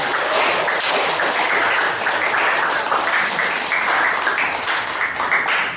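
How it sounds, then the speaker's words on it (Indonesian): Students clap together in a classroom, a dense steady patter of many hands that stays loud throughout and tapers at the very end. "Nah, kasih tepuk tangan dari kelompok yang lain."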